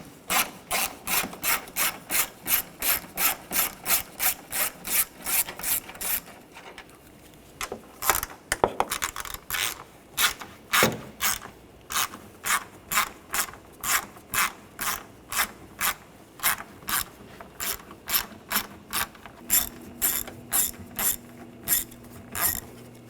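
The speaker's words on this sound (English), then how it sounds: "Now I'll take these screws off, use a 8mm socket." Ratchet wrench with an 8mm socket backing screws out of a 2013-2019 Ford Escape engine bay, a steady run of rapid, evenly spaced clicks, a short pause with a few rubbing knocks, then more clicking bursts, close and clear.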